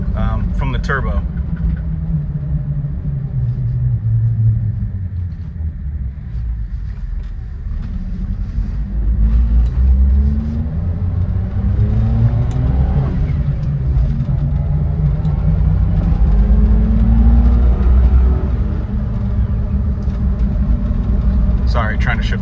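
A 1998 Suzuki Jimny with a K6A turbo engine being driven with a manual gearbox, giving a continuous low engine rumble and road noise from inside the cabin while people talk over it throughout.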